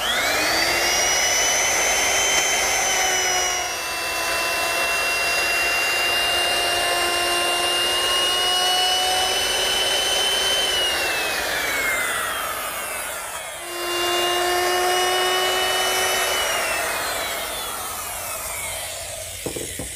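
Router bit molding the edges of a wooden cross piece guided along a fence, a loud high whine with a cutting rasp that runs continuously, dips briefly midway, then resumes and winds down.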